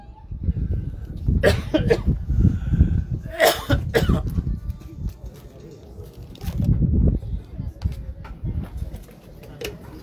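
Someone coughs and clears their throat several times between stretches of talking, close and fairly loud.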